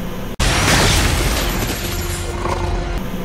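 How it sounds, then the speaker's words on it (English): A CGI explosion from the Predators movie erupts as a sudden loud boom that rolls into a dense, sustained roar of rumbling debris and blast noise lasting several seconds. "In a crappy CGI explosion"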